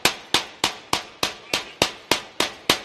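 A hammer strikes metal in a garage: ten sharp, ringing blows at an even, steady pace, each loud and close with a quick decaying ring, with no talk between them.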